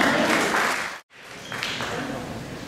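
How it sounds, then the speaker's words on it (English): An audience round of applause at a variety show, a brief dense burst of clapping that drops out for a moment, then resumes with voices mixed in. "Let's give them a round of applause anyways."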